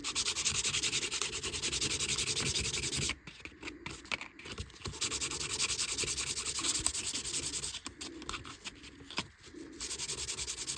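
Sandpaper of 180 grit rubs back and forth on wood while a cigar box stick dulcimer is finished by hand, a close, steady scratchy hiss broken by a few short pauses.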